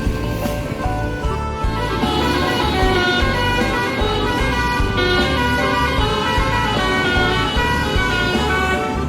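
Buses pull away from a busy bus terminal, engines rumbling continuously and loudly, with horns tooting over a dense traffic roar and no talking.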